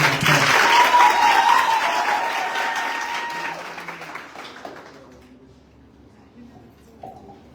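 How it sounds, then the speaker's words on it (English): An audience at a campus seminar applauds a university lecturer, with loud, full clapping at first that gradually thins out and fades to a few scattered claps. "Can you give him a round of applause?"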